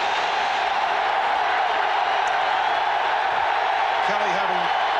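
Loud, steady roar of a stadium crowd at a 1993 NFL game between the Bills and the Chiefs, holding a dense wall of noise throughout with brief faint voices beneath.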